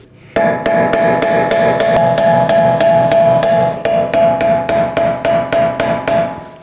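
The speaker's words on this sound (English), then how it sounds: "I'm going to take a punch and hammer and hit along the axle in the center divot" Loud, rapid metallic hammer blows strike a punch on a car's axle shaft in a steady rhythm, ringing sharply with each hit, then slowing to spaced strikes near the end.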